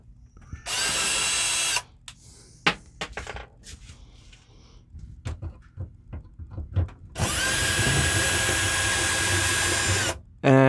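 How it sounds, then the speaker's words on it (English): A power drill whirs in two sustained bursts while unscrewing the plastic cover plate of an RV rooftop air conditioner, with clicks, taps and handling noises between the runs. "the next thing to do is to unscrew this plate"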